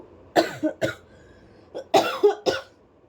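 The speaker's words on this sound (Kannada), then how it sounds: "ಸ್ವಲ್ಪ ಕೆಮ್ಮ ಕೆಮ್ಮಾಗ್ಬಿಡೈತೆ" A person with a lingering cough and sore throat coughs in two bursts, several sharp close coughs separated by a short pause.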